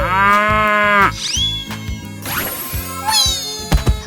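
A cow in a 3D animal video game gives a long, loud, drawn-out moo at the start, followed by game effects over a thumping music beat.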